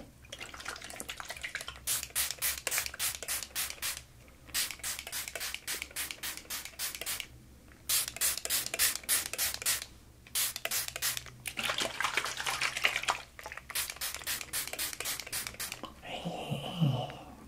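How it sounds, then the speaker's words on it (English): Rapid trains of sharp spritzes from a water spray bottle in an Italian barbershop setting arrive in several close bursts separated by short pauses, ending with a brief rustle. "Looks like we got here a nice spritz bottle."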